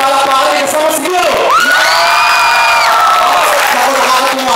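A lively crowd cheering and shouting at a live gathering, voices rising into a loud sustained whoop with clapping underneath, close and energetic.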